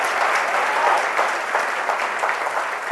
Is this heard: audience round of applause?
yes